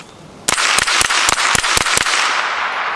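A suppressed SIG MPX with an 8-inch barrel fires a quick string of about seven sharp, loud cracks in rapid double taps, close and dry, ending after about two seconds.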